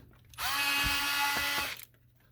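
A power screwdriver whirs steadily for just over a second as it backs out small hinge screws holding the axle and spring on an iRobot S9 robot vacuum lid, with faint ratcheting clicks and no talk.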